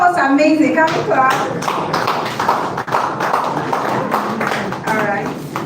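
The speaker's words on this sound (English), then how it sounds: "Can we clap?" Audience at a formal launch event for a Nigerian trade finance survey clapping in a sustained patter of many hands, fairly close, with a voice talking over it at the start.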